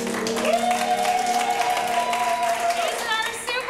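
An audience at an improv comedy show claps steadily, with a sustained cheering whoop riding over the applause for a few seconds.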